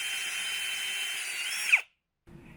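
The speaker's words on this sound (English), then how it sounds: "I just need to drill a hole for the plastic anchors," A power drill bores a hole into stucco to take plastic anchors, a steady loud whine for nearly two seconds that cuts off abruptly, followed by a short quieter burst after a brief silence.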